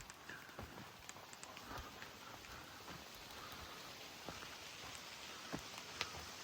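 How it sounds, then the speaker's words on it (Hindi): Rain falls on a forest trail in Canada, a faint, soft wash of drizzle with scattered drop patters and a few light taps, steady throughout with no voices. "बारिश आ गई है"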